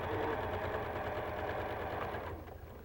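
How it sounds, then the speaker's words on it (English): A sewing machine stitches pinned quilt blocks with a steady, quick mechanical chatter. It runs continuously, then eases off slightly near the end. No voices are present. "let's just go and sew the one we already have pinned"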